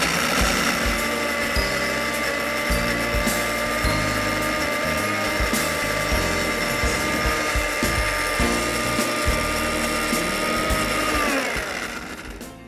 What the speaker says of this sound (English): Start with low in your blender and gradually move to high